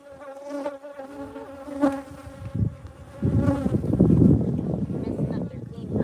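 Honeybees buzz loudly and close during a midwinter hive inspection, a dense droning hum with wavering pitch from agitated bees, joined by rumbling handling or wind noise that thickens the sound in the second half.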